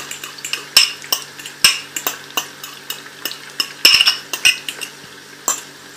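Egg added to a pan of onions for Chinese chicken vegetable rice sizzles gently while a metal utensil taps and clinks against the pan in quick irregular strokes, close up and without speech.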